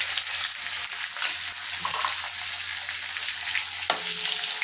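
One red chilli and one green chilli sauté in hot oil with cloves and asafoetida for a paneer ball curry, giving a steady close sizzle with occasional stirring taps and a sharper clink near the end, with no voices.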